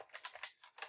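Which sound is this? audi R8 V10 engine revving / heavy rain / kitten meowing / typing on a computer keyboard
typing on a computer keyboard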